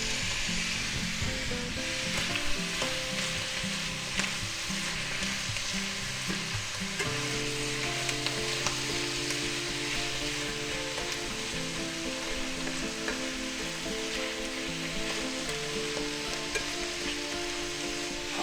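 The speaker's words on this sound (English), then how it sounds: "now we're going to go ahead and add our chopped onions in there." Chopped onions sizzle in a frying pan with mushrooms and garlic butter, a continuous loud hiss of frying with stirring underneath and no voices.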